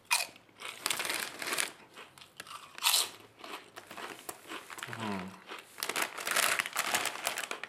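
Crunchy Chio Chips Rocky Balboa pizza-flavoured crisps are bitten and chewed close up, with bag crinkling and rustling between repeated loud crunches; someone talks over parts of it.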